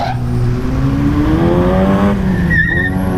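A car with a fake M badge revs loudly on a busy Indian street, its engine note climbing in steady harmonic sweeps over constant traffic noise, with a brief high whine near the end.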